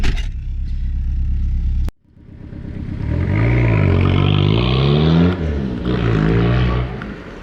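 A Peugeot 306 diesel turbo car idling, then a sharp cut before the engine revs up and pulls away, rising and falling through the gears, loud and close.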